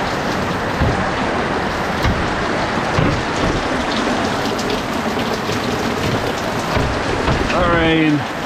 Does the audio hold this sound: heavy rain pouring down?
yes